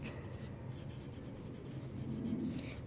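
A pen scratching across paper during a maths lesson, a soft continuous scribbling close by under a low steady background hum.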